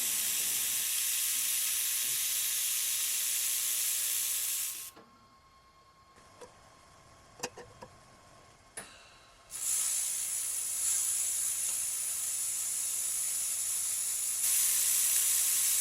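Arc welding 1/8 inch steel coupons for a fillet weld on a T-joint, with a loud continuous crackling hiss that breaks off for a few seconds with a few clicks, then resumes steadily.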